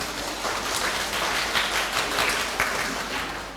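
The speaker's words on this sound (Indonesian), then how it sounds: "Tepuk tangan untuk kita semua." Seminar audience at a parish event in Indonesia claps in sustained, even applause, steady and fairly close for a few seconds.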